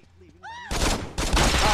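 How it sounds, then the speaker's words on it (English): Gunfire in the video game Saints Row 2: a loud, dense burst of shots erupts partway through, cuts briefly, then resumes as sustained rapid firing, following a few tonal game sounds beforehand. "y'all hear gunshots?"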